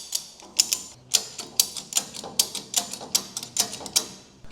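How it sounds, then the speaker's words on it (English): A big ratchet strap is cranked to pull a car chassis, giving a run of sharp metallic clicks in uneven bursts, close and fairly loud, with no speech. "We've got this big ratchet strap. Yeah. That is pulling the back of the chassis."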